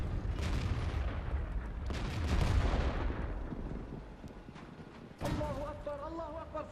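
Tank cannon shots boom in World of Tanks while an M4A3E8 Fury fires AP rounds, several heavy blasts among battle noise with a mechanical whine afterward, a voice talking over it.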